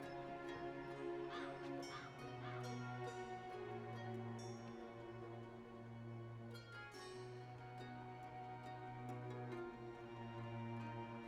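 Crow cawing from a talking bird in the video game Dreamfall Chapters, repeated harsh caws over a steady droning musical background, no speech.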